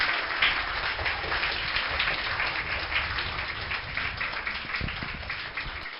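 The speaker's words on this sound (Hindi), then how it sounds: "इरशाद भाई के लिए एक जोरदार तालियों के साथ।" Audience applause at an Independence Day celebration for students, a dense, steady wash of many hands clapping at moderate volume throughout, with no distinct individual claps standing out.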